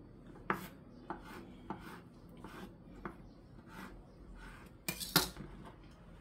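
A sharp knife chops tilapia on a cutting board for ceviche, giving a series of irregular crisp knocks that end in a louder cluster of cuts, close and with no talking.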